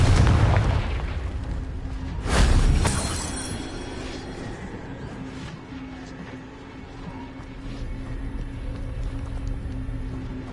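A Confringo fire spell goes off in Hogwarts Legacy, a booming blast that swells around the two-second mark over a low rumbling background, with a shouted voice nearby.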